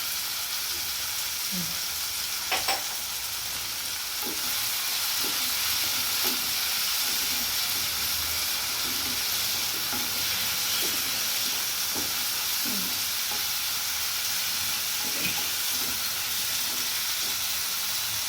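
Onions fry in a pan with black pepper and chili flakes, a faint, steady sizzle with scattered soft pops and occasional stirring scrapes, with no voices over it.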